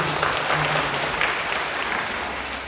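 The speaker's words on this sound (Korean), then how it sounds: "박수" A church congregation breaks into steady, dense applause, a continuous wash of clapping at moderate level with no talk over it.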